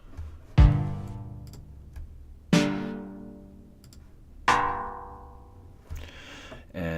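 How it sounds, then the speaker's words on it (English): Ableton Resonator Berlin preset played as a plain minor chord from noise samples, heard as three separate loud tonal hits with rich harmonic overtones that ring and decay over about two seconds each, followed by a fourth softer onset. "you get yourself a kind of very straight up minor chord here"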